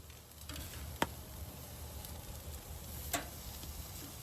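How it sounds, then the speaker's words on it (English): Steaks sizzle over the hot zone of a fire pit converted into a live fire grill, a quiet, even hiss with two sharp ticks or pops standing out. "just from listening to the sizzle, I can tell that over here, over here is the hot zone."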